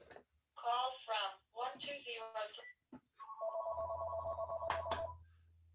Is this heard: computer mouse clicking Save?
no